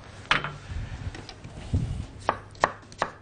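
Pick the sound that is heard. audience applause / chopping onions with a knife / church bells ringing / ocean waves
chopping onions with a knife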